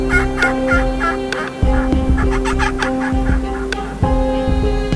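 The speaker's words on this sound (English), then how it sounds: "We can hear turkeys in the distance" Wild turkeys gobble outdoors, with repeated bursts of rattling gobbles over a steady low hum and no voices.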